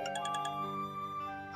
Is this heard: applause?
no